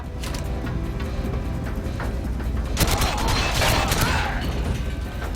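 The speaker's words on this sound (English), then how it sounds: "Here's me fumbling around with my guns." Gunfire in the video game GoldenEye, in the Severnaya bunker level, with dense rapid shots over steady background game noise and a louder burst toward the middle.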